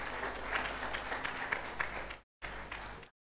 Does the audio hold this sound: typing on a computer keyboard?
no